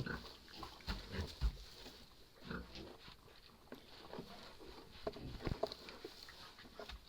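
Two-and-a-half-month-old Vietnamese pot-bellied piglets grunt softly on an evening farm, with scattered short snorts and rustling that come in irregular bursts at low volume, close by.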